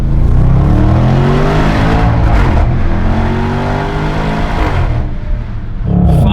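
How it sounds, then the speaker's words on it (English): Range Rover SVR (2019) engine revving hard while driving a mountain pass, loud and close with rising and falling pitch sweeps through gear changes and a brief dip near the end. "The sound comes way more to life when you're actually driving the car."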